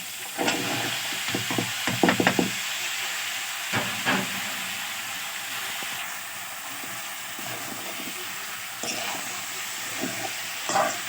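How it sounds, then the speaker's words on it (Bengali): Green beans and potatoes frying with spices in a pan, giving a steady sizzling hiss broken by scattered stirring scrapes and clatters, close by with no talk. "মশলা কষায় ফেলছি, এখন শিম আর আলুগুলো দিয়ে দিব।"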